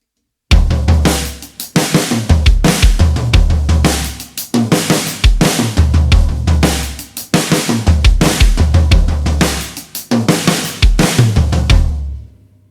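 Drum kit playing a linear groove in a halftime feel at full tempo, loud and close, with dense repeated hits and cymbal wash running continuously for about twelve seconds before stopping.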